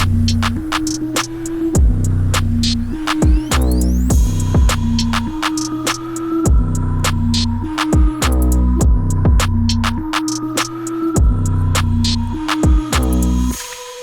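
A loud paramotor engine fitted with nitrous drones steadily while its pitch rises and falls in repeated surges as the throttle is pushed up and eased off.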